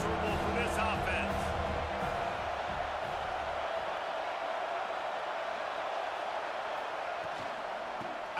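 A broad, steady roar from a college football stadium crowd at the Iron Bowl runs through the whole stretch. A commentator talks over it throughout.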